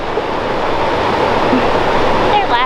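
River water near the Bamboo Forest in Atlanta rushes in a steady, broad wash throughout, with faint voices surfacing briefly near the end.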